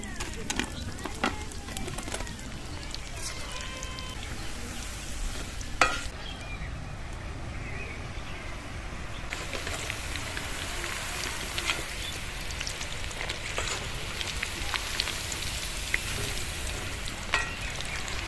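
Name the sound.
chicken pakoras frying a second time in oil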